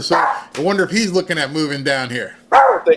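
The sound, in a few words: dog barking indoors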